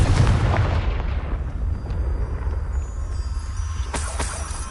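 Confringo fire-blast spell in a Harry Potter video game, a loud booming explosion at the start that rumbles and fades, followed by a couple of sharp crackling bursts near the end.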